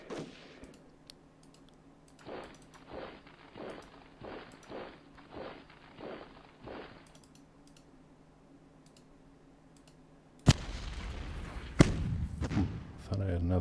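Artillery fire in the strategy war game Decisive Campaigns: Blitzkrieg, a faint, evenly spaced run of about nine muffled booms, followed by a louder burst of noise near the end.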